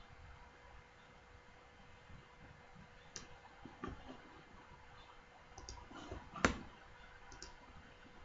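Mouse clicks on a computer while working in Proteus Ares PCB design software: a few scattered, quiet clicks, one sharper and nearer than the rest, over faint steady room hiss.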